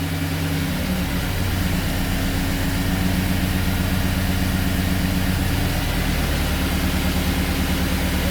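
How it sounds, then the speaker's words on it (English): Chevrolet Silverado engine idling very low at about 500 RPM, a steady deep rumble with a slightly uneven pulse, close and continuous with no talking. "This is a really low idle too, holy crap. 500 RPM idle."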